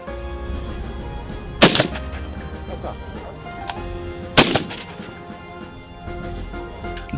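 Gunfire at a military shooting range where ballistic armour materials for the Nigerian Army's NAC-V vehicle are tested: two sharp, loud shots several seconds apart over a steady background hum, with faint voices nearby.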